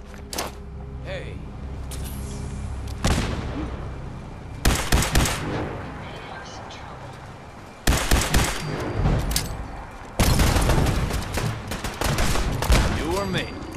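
Gunfire in the Fallout 4: Far Harbor video game, loud bursts of rapid shots and single cracks in several clusters, with voices shouting between volleys.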